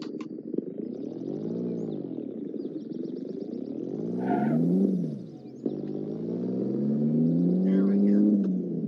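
Car fitted with a homemade clutch pedal being driven, its engine rising and falling through revs in a loud, steady drone that dips briefly before climbing again.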